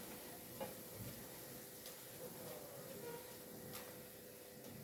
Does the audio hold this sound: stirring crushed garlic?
yes